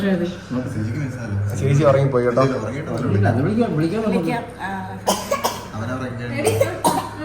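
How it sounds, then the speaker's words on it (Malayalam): Several coughs break out amid ongoing conversation, with a couple of sharper bursts near the end over the talking. "ഒരാൾ ചുമക്കുന്നുണ്ടോ"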